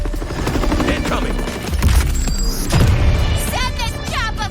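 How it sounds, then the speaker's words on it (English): A helicopter's rotor thumps loudly amid a busy mix of explosions, gunfire and other battle noises in the video game Suicide Squad, with some voice-like sounds layered in. "Send this chopper flying!"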